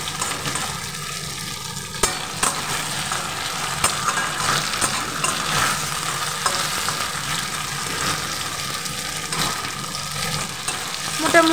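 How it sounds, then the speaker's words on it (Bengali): Sliced sweet potatoes fry lightly in a pan with a soft, steady sizzle, stirred now and then with brief scraping and clinks, close and moderately quiet with no talking. "তাই আমি সবসময় আলুটাকে একটু ভেজে নিই"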